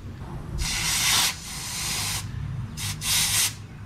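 Two loud bursts of rushing, hissing compressed air blown through a fuel tube on a long-stored 1931 Ford Model A, the first about a second long, the second after a brief pause, with no talking.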